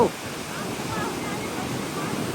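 Seawater splashes and surges up out of a small cave on a rocky shore, a loud, continuous broadband wash and roar close to the microphone.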